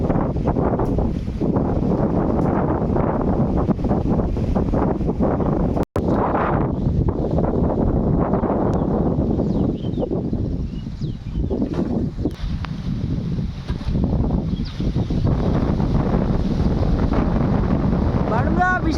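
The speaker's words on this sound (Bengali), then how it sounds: "বিশাল হাওয়া, সাবধানে থেকো।" Strong wind sweeps across open paddy fields in rural Bengal, a continuous buffeting roar on the microphone throughout, briefly easing near the middle, with one sharp click around six seconds.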